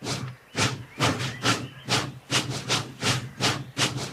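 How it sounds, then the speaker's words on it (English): A steam engine puffs rhythmically, about eight evenly spaced hissing chuffs over a low mechanical hum, close and moderately loud. "James puffed away as quickly and quietly as he could."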